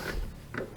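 A leather hole punch pressed down with a drill press gives a few brief creaking, rasping mechanical scrapes, close and fairly quiet, with no voices.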